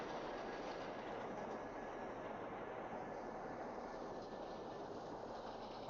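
An R160 subway train on the N line toward Forest Hills runs steadily in the OpenBVE train simulator, giving a continuous rumbling roar with faint rhythmic wheel clatter and no voices.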